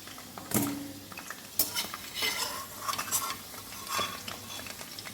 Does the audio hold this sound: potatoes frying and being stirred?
yes